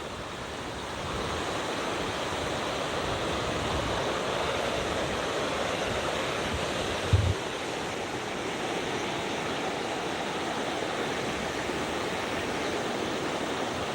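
Surf breaks steadily on a Barbados shore at Bathsheba, a continuous broad wash of waves with wind noise and one brief thump partway through, no voices.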